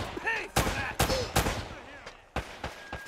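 Gunfire in the video game Uncharted: Drake's Fortune comes as a rapid series of loud, sharp shots close up, with one short burst followed by a few more isolated bangs.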